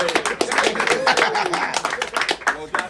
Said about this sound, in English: Can we get like a round of applause for the first team?